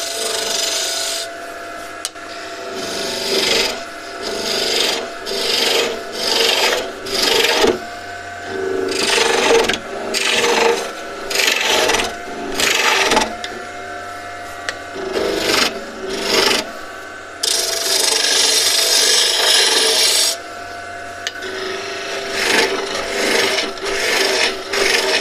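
A wood gouge cuts a turned sphere box on a lathe, giving loud, close scraping and rasping bursts that start and stop irregularly, with a longer harsh cut near the end and no talk.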